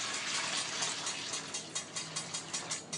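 Rice being rinsed by hand in hot water for jollof rice, a soft continuous rush of water with rhythmic sloshing pulses toward the end, faint and close.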